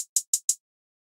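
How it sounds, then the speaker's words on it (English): Four crisp, bright hi-hat hits from a sample in FL Studio play in quick even succession, each short and sharp, then silence. "Now I'll go to the hi-hat, the other one, which sounds like this."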